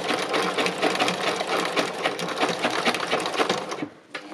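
Sewing machine stitching free machine embroidery with thicker thread, running slowly in a steady rapid stitching rhythm, close and loud, stopping briefly near the end.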